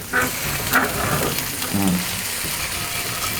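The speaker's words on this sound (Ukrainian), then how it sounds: "Не мішайте яйце пластиковою ложкою." Oil sizzles in a pan while an egg is stirred through it with a plastic spoon, with soft scraping strokes and faint voices in the background.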